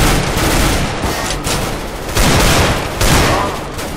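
Loud weapon fire in CS:GO with heavy bursts and sharp shot impacts, several strong blasts standing out in a busy, continuous stretch of gunplay.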